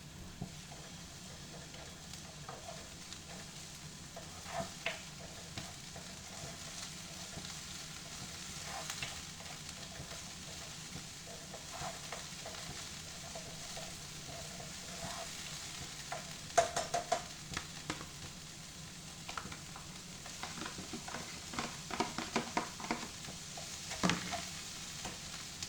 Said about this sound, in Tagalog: Stir fry ko muna ang ating vegetable para mag-cook.